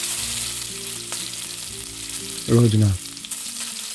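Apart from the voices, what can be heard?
potato sticks frying in hot oil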